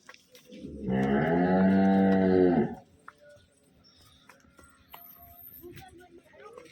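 A water buffalo lets out one long, loud, low moo close by, followed by quiet background shuffling and faint distant sounds.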